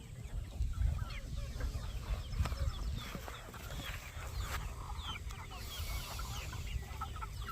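Chickens cluck and chatter continuously in a farmyard, several birds close by with overlapping busy calls and no talking.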